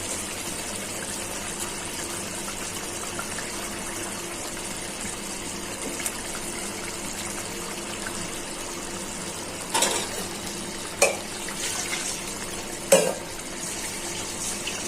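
Fried pangas fish pieces added to a pot of simmering eggplant curry, a continuous low bubbling and sizzling hiss with a few sharp clinks and thumps of a spoon against the pot, close and steady, no talk.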